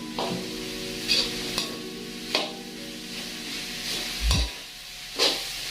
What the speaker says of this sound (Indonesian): kita sesekali aduk biar bumbunya merata, minyaknya merata gitu ya guys